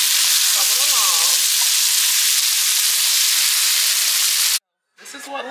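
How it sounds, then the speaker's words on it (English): Sausage, onion and potatoes fry in a pan with a loud, steady sizzle for several seconds, then cut off abruptly, followed by brief talk near the end. "Onion and sausage. Y'all, I burned the sausage and some potatoes and cheese."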